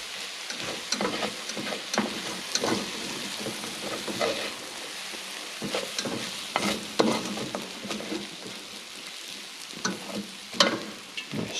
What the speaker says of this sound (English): So we're just going to mix everything together.